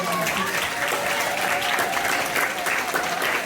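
A theatre audience at a children's storytelling show gives steady, full applause that holds at an even level throughout, with a faint murmur of crowd underneath.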